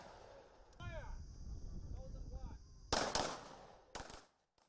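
Gunfire at a police firearms training session with revolvers, pistols and carbines: a few sharp, loud shots and bursts crack out over a noisy, windy background.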